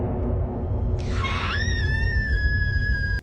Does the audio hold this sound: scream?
yes